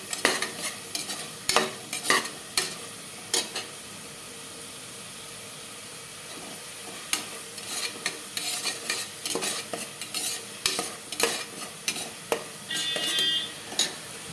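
A paste for tomato biryani is sautéed and stirred in a pan: quiet frying under repeated scraping and clinking strokes of a utensil against the pan, coming in uneven bursts.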